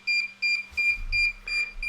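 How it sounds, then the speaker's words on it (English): DJI Air 2S drone beeping while pairing with a DJI RC controller: a rhythmic series of five or six short, high, piercing electronic beeps at even intervals, close and loud, with a brief low thump midway. "this is announcing trying to pair. Makes an awful beep."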